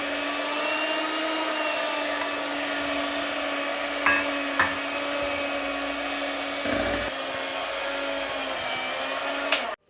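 An electric mixer beats plum cake batter as flour is added bit by bit. It gives a steady, continuous motor whine with a few faint knocks and taps, and no one speaks.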